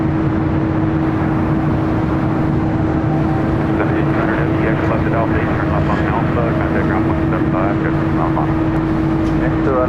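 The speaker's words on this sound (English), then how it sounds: "Got that 777 freighter rolling down to 25 right." A Boeing 777 freighter rolls down the runway at LAX, its engines a steady loud roar held throughout, with talk over the top.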